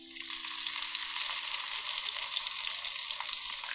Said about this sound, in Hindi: इसको ब्राउन सा कलर आने तक फ्राई करना है लहसुन अदरक को